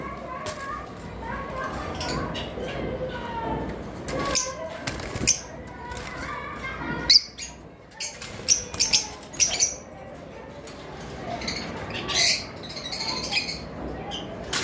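A pair of double factor violet lovebirds give sharp, repeated squawks and chirps in irregular bursts, close by, mixed with rustling and with a person talking over them.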